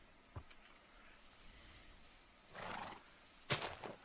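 A horse in Minecraft neighs in a long whinny, with a few dull hoof clops around it, fairly close but quiet overall.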